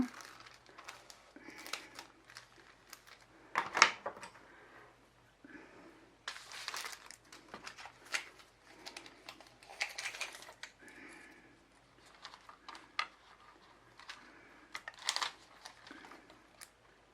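Scissors snip through thin iridescent fantasy film for an epoxy vase project, quiet scattered cuts and crinkles with irregular pauses, heard close up but faint.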